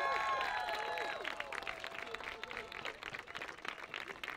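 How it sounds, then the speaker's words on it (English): Audience at a children's hospital walk-and-roll charity event clapping for volunteers, a sustained wash of applause from a crowd that gradually thins, with some voices mixed in. "I'm going to ask you to clap one more time."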